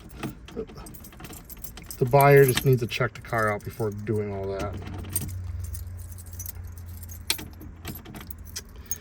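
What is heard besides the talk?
car keys jangling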